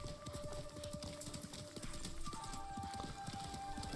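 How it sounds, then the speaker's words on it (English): Horse hooves clip-clop steadily in the Ghost of Tsushima trailer, a brisk even rhythm of hoof strikes at moderate distance over a soft background of music and ambience. "Look at the muscles on that horse."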